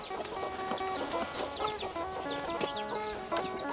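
Chickens and young chicks cluck and peep steadily at feeding time on a rural farm, with a busy overlapping chorus of short calls and chirps filling the space close by.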